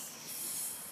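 A child imitates a snake with a steady, breathy hiss lasting about a second, fairly quiet and close, with no other voices over it.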